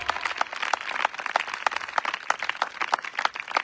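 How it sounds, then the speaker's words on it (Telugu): Congregation clapping hands in a church service, steady rhythmic group claps in quick repeated beats, moderately distant and fairly quiet. "గట్టిగా చేతులలో చప్పట్లు కొట్టి దేవుడి మహిమ పరచాలి"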